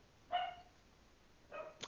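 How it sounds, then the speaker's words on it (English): A dog barking, two short sharp barks about a second apart followed by a quick yip, faint against a quiet indoor background with no speech. "Girl, my dog is so annoying."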